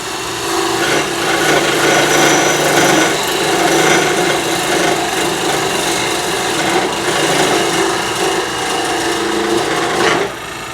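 Steady, broadband scraping and rasping as a tenon is turned on a wooden natural edge bowl on a lathe, a close, continuous cutting hiss that dips briefly near the end.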